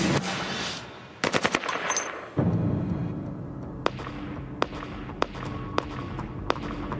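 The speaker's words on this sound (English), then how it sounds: "the gunman who used an AK-47 to try to murder a police officer" AK-47 gunfire in a crime reconstruction of an attempted murder of a police officer: a close, rapid burst of automatic shots, then a string of single cracks spaced a second or so apart over rumbling background noise.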